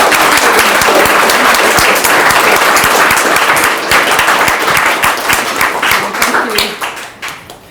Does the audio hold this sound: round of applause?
yes